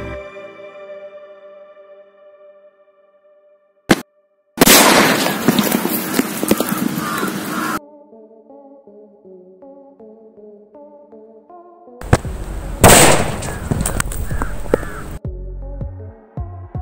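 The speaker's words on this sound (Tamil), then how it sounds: "நான் எதிர்பார்த்ததை விட இது பயங்கரமாக வெடிச்சிது" A coconut weighted down under a stone bursts from a sodium metal reaction in two loud, sharp blasts, each followed by several seconds of crackling, fizzing spray, with bird-like calls and quieter tones in the pauses.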